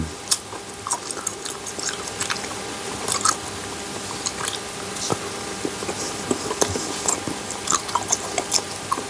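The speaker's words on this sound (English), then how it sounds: "So guys, let's try this lollipop." Someone bites into and chews an Oreo chocolate lollipop up close, with crisp crunches and wet chewing in an irregular, steady rhythm.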